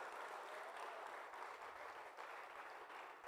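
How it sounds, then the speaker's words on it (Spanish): A church congregation claps loudly and steadily during an evening service, a dense, sustained wash of applause with no voices over it. "Dale una ofrenda de palmas fuerte a nuestro Dios una vez más."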